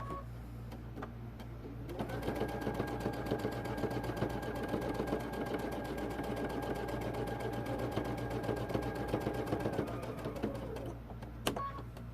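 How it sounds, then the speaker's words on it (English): Sewing machine running a locking stitch on a jacket while a double welt pocket is added, with a steady, rapid mechanical stitching rhythm for about eight seconds, followed by a brief stop and a few clicks. "I'm going to do a locking stitch here. And I'm going to sew down to my needle."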